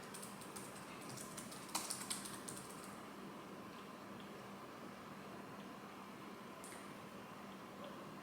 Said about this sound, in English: type in different keywords